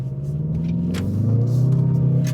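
A Mazda CX-30 engine accelerating as the crossover pulls out into traffic, a steady low rumble with a rising harmonic drone heard from inside the cabin, with no talking.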